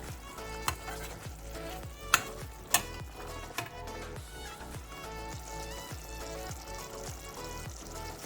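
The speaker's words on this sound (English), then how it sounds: "you're going to go ahead and add the salmon back to the pot" Salmon pieces go back into a pot of thick, reduced Jamaican brown stew sauce, giving a steady sizzle and bubbling with a few sharp splashy hits, all over a rhythmic background beat.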